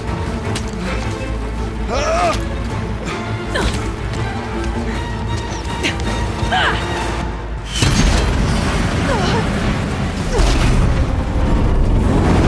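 Heavy booming blasts from explosive ammunition in Horizon Zero Dawn, loud crashes and impacts over a dense battle din with machine-like clanks, surging louder near the end.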